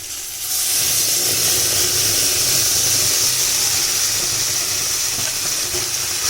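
Spinach paste with chilli stirred into spices already frying in a pan, giving a loud, steady broadband sizzle and hiss that rises within the first half second and holds without pause.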